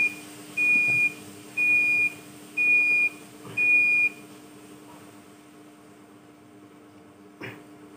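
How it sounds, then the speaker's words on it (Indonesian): An Arduino-built large digital prayer-time clock sounds its alarm: four evenly spaced, steady electronic beeps, each about half a second, clear and close, followed by quiet room tone and a faint click. "berbunyi alarm waktu sholatnya berarti jam ini akurat"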